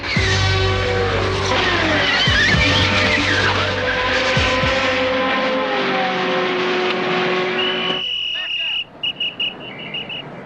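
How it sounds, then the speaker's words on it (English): Indy 500 race car running a qualifying lap at maximum speed, a loud sustained engine roar with shifting pitch and tire noise that drops off sharply near the end, leaving a brief chirping sound. "the driver must complete 4 laps at maximum speed, on the ragged edge of control"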